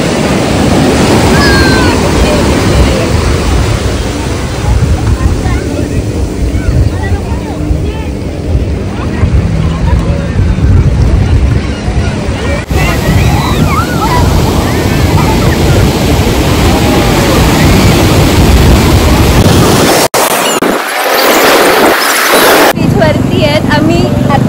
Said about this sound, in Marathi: ते समुद्र आहे